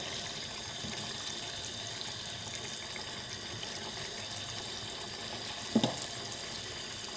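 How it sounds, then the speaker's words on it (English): Egg curry simmering in a pan makes a soft, continuous bubbling hiss throughout, with one brief scrape or clink from a gentle stir near the end. "Give it a little gentle stir."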